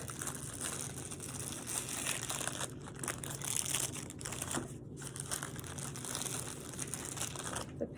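Plastic wrapping from a catheter kit crinkles and crackles as it is pulled away, close and continuous with a few sharper crunches, no talking.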